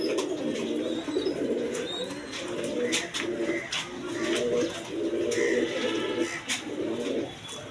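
Domestic pigeons of various colour varieties coo steadily in a loft, soft rolling coos overlapping continuously at close range, with faint background noise and no talk.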